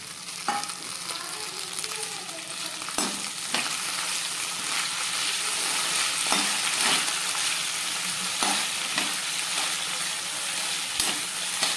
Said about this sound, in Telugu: ఈ పోపు అంతా బాగా వేగనివ్వాలి.